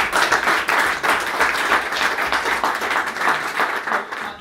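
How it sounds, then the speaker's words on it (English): An audience at a procurement pub debate gives a round of applause: many hands clapping in a continuous, slightly pulsing wash that carries on throughout and only begins to thin at the very end. "Let's have a round of applause for Tipping Low."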